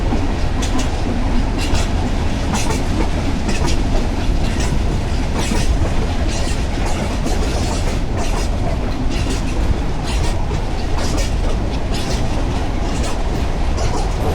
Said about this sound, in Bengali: একটা সুন্দর কার নিয়ে ট্রেন সামনে এগিয়ে যাচ্ছে।